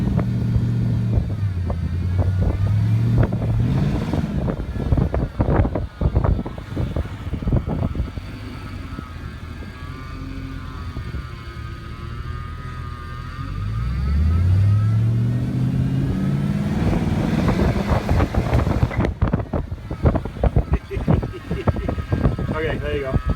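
A 1969 Ford F250 pickup engine runs and revs close by, rising and falling through several throttle blips with a rough, throaty low rumble; a voice talks over parts of it.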